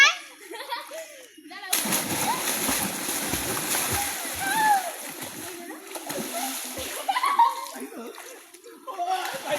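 Children splashing and diving in water while swimming, with continuous churning splashes, bursts of chuckling and laughter, and voices calling out near and loud throughout.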